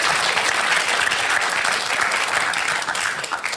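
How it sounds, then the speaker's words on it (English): Studio audience at a televised Q&A panel debate breaks into steady, loud applause that fills the room for several seconds, then starts to thin out near the end. "Now, that's more like what I call applause for a joke."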